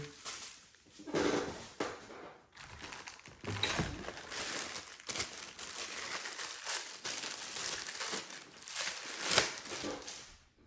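Packaging crinkles and rustles as it is pulled off a heavy-duty fishing magnet, close-up irregular crumpling and tearing bursts with brief clicks, no talk.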